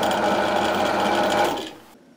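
A Silverline drill press motor runs with its lid closed, giving a steady, close whirring hum that fades out near the end.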